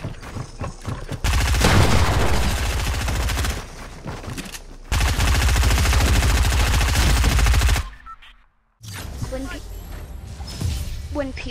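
Submachine gun fire crackles in an online shooter video game, with long, loud, sustained automatic bursts broken by short gaps, then a brief silence before quieter game sounds resume.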